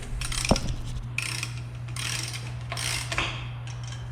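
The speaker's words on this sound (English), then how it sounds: "So I'm going to go ahead and torque it." A torque wrench tightening a 36 millimetre axle nut on a 1996 Jeep Cherokee front wheel during a U-joint change: several bursts of ratcheting clicks over a steady low hum, close and moderately loud, with no talk.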